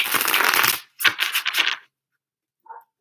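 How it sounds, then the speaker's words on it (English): Tarot cards are shuffled in two quick close riffling bursts, followed by a brief soft tap, with no talking. "we're going to shuffle real good here."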